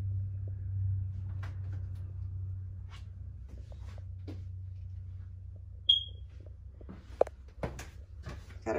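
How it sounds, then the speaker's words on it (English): A smoke detector's low-battery chirp, a single short, high electronic chirp, sounds once inside a 2017 Merhow horse trailer over a steady low hum, followed by a few faint knocks and rustles. "Running low in the smoke detector, if you hear a chirp."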